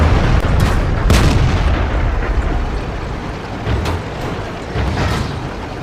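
Tank cannon fire and battle noise in World of Tanks form a loud, continuous rumbling roar, punctuated by several sharp booming reports spread across the stretch.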